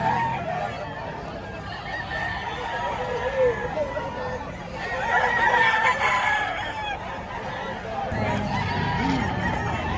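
Mottled bulik chickens and other fowl at a busy poultry market in Padre Garcia, Batangas, honking and clucking with a crow or two amid constant crowd noise and nearby talk.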